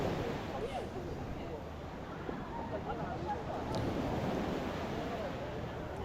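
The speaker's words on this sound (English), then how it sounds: "You can hear the nice gentle breeze of the wind" A gentle breeze blows across a sunny California beach, a soft, steady rush of wind with faint surf underneath and no clear talking.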